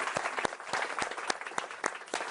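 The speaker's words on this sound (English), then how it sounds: "Let's give them a round of applause." Scattered applause from a modest audience at an international AI summit session in Paris, quiet and brief, with sharp individual claps standing out.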